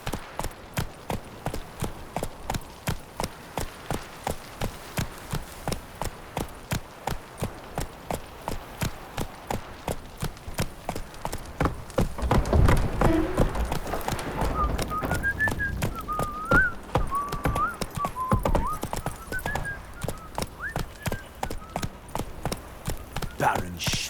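Steady, evenly spaced horse hooves clip-clopping through a Witcher 3 game scene, continuous and fairly close, with a brief swell of louder noise midway and a whistled tune drifting over the later hoofbeats.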